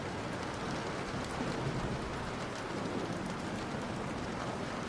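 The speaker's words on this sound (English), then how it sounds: "Getting tired of being in the rain." Steady, dense rainfall hisses without a break, close and even, with a low rumble underneath and no voices.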